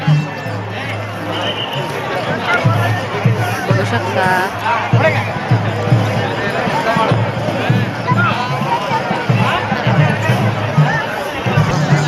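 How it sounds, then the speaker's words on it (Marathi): A dense crowd murmurs and bustles at an evening village temple fair for Birobā at Arewadi, with a canopy pitched overhead; steady babble and movement fill the whole stretch, close and loud, with a person talking over it. "तर बघा गर्दी कशी आहे"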